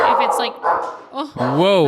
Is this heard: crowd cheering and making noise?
no